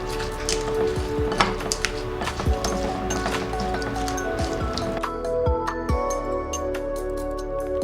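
Shrimp are mixed with spices by hand in a bowl, making close, wet squishing and clicking sounds in an irregular rhythm, with no talking.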